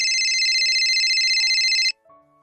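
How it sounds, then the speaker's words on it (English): A mobile phone ringtone rings loud and close in a steady electronic pattern for about two seconds, then cuts off abruptly, leaving a faint tone behind. "Oh, my phone is ringing."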